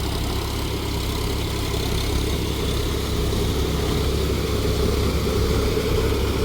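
A Solis 4415 45 HP 4WD tractor engine runs steadily, a loud, close, even diesel drone with a constant low rumble and no speech over it.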